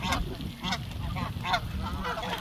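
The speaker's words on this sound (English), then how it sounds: "We're being invaded by ducks." Ducks calling while crowding around a person outdoors: repeated nasal honking quacks, four or five clear calls in quick succession, close and fairly loud over steady background noise.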